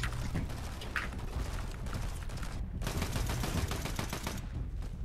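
Rapid bursts of automatic gunfire in a Fortnite match, dense repeated shots rattling on with brief pauses, loud and continuous.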